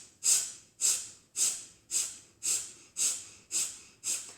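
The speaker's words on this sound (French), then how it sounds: "on va expirer par le nez. Donc c'est breath of fire" Rapid, forceful nasal exhales of breath of fire in a Kundalini yoga routine, eight sharp hissing puffs at a steady pumping rhythm about every half second, close and clear.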